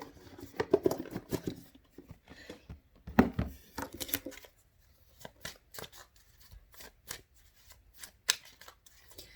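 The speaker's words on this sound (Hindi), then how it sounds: "मैं आप लोगों के सामने शफल करूँगी।" Tarot cards shuffled by hand in bursts of crisp riffling and flicking, close and fairly soft, with quiet pauses between the bursts and no talking.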